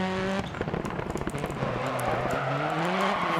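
A rally car in DiRT Rally accelerates hard on a gravel stage, its engine note rising steeply through the gears with crackling, loud and close.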